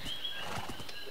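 A Minecraft horse in a racing mini-game gives a brief soft whinny with faint hoof clip-clop, quiet and tonal over a steady hiss.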